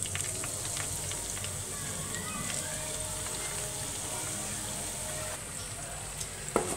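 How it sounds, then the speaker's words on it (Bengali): About one cup of chopped onion sizzles steadily in leftover hot oil in a pan for a chicken jhal fry, a constant crackling hiss that runs throughout beneath a quiet voice. "যে তেলটা এখানে অবশিষ্ট আছে আমি এই তেলের মধ্যে 1 কাপ পরিমাণ পেঁয়াজ কুচি দিয়ে দিচ্ছি।"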